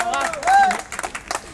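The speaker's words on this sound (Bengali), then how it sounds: "ইউনুস ভাইয়ের জন্য একটা হাততালি দিয়ে দাও" Brief, scattered clapping from a small crowd at an Eid celebration, welcoming a guest, heard under excited talk and a whistling tone.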